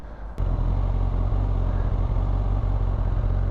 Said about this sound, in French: C'est un 4 cylindres. La 1000 Katana, qui est le moteur de la GSX-S.